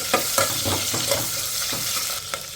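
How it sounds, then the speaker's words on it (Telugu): Onion pieces frying in a pan, a continuous bright sizzle broken by several short stirring scrapes, close and alone without talk. "ఈ ఉల్లిపాయ ముక్కల్ని 1 నిమిషం ఫ్రై చేసేసుకోవాలి."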